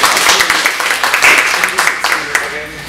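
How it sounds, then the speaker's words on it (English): An audience at a live event gives a quick round of applause, a loud, dense patter of clapping close by that holds steady, then eases slightly near the end, with voices underneath. "just give them a round of applause, real quick"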